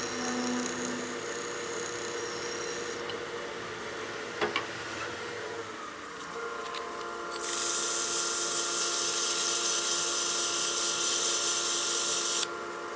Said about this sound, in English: When you're scraping with your skew, a nice, really sharp edge is going to be key